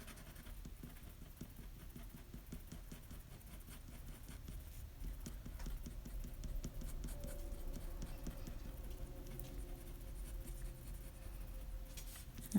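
Fine-tip Stampin' Write marker scratching and stroking across paper while shading a stamped image, a steady close soft scribbling texture of short repeated strokes throughout, with no talk.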